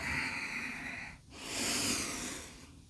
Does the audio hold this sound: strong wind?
no